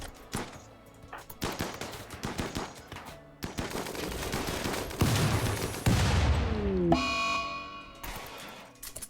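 Gunfire in the colony-management game Randy with no DLC: dense bursts of automatic weapons and scattered single shots crackle continuously for several seconds. A buzzing alarm-like tone cuts in near the end.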